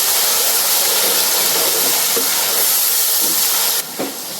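Frozen green peas and potatoes frying in oil, a loud, dense and steady hiss that holds unbroken and dips a little near the end.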